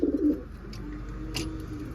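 A soft, low cooing from a pigeon, brief and fairly faint against a quiet background, with a light tap near the middle.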